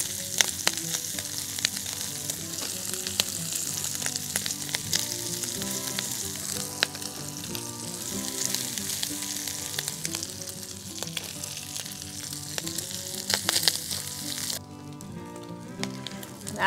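Bacon and baguette pieces frying in a pan at a cottage or camp setting, a dense continuous sizzle with light crackles and occasional tossing, close and steady with no talk.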